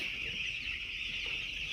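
A flock of chickens in a poultry shed, warmed by lit charcoal burners against the cold, makes a constant high chorus of cheeping over a soft, shuffling background of birds moving and feeding.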